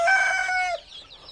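A hen in a coop full of young chicks gives one loud, drawn-out call, close and clear, followed by a quick faint peep.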